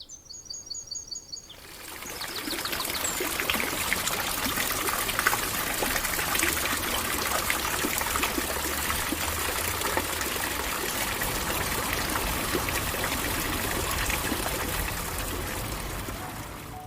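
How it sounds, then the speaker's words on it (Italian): Steady rushing water from a waterfall by an old mill wheel, loud and continuous, starting after a brief quieter moment with a few bird chirps. "Sento il rumore di una cascata."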